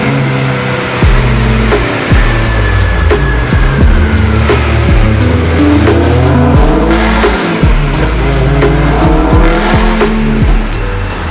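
A Honda Integra DC2 engine revs hard on a dynamometer during a tuning pull. It is loud and continuous, with rising and falling harmonic tones that hold through the run and no talking.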